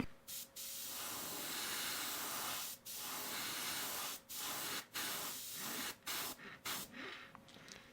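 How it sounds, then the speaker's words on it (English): An airbrush sprays black paint onto a fishing lure in long, steady hissing bursts, close and fairly loud, cut by short pauses between passes. "we still have the black loaded up in the airbrush, I'm going to go do a really nice light coat on the back of the bait"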